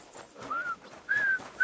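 A dog in the video game Kingdom Come Deliverance 2 gives a few short high whimpers in quick succession, fairly close and soft, with no talking.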